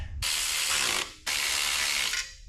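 Ratchet wrench loosening a 10 mm bolt on a 454 big block engine in a 1972 Chevrolet C10 truck, two loud sustained bursts of rapid clicking separated by a short pause, close and alone.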